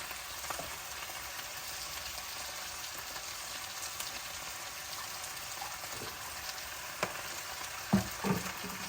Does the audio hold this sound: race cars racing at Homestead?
no